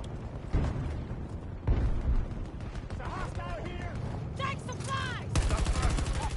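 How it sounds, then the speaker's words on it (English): Battlefield video game gunfire crackles almost continuously through a chaotic firefight, with sudden loud bursts and rattling volleys layered under shouting voices and game radio chatter. "I hear you shooting at me"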